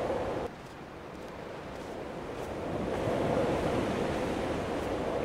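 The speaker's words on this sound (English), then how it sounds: "Love the listening to the crashing of the waves" Ocean waves and wind in the video game Dear Esther: a steady wash of surf and wind rushing, swelling slightly louder partway through, with no voices.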